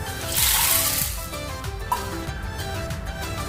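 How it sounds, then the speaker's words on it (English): Water poured into a vessel holding half a cup of cowpeas ready for pressure cooking, a short splashing pour that swells and then fades into faint trickling, close by, with a brief clink near the end. "For half cup I am adding 1 cup water."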